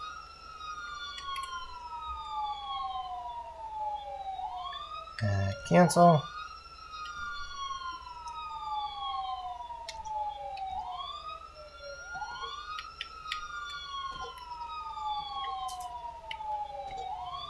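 Two overlapping police sirens in a video game wail in long repeating sweeps, fairly steady and continuous, with a brief spoken word partway through.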